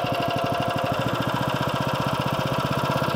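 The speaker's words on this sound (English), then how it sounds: "let that machine have its little 5 minutes of its own time, idling away" A new 2023 Cobra Fortis petrol cylinder lawn mower engine idles steadily just under half revs, a close, even low chugging pulse with constant mechanical hum and no talk.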